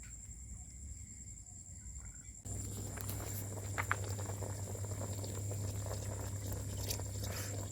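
A pot of stew simmers over a charcoal fire outdoors, giving a steady low bubbling and hiss that begins abruptly partway through and continues evenly, with faint scattered ticks and clicks, no voices.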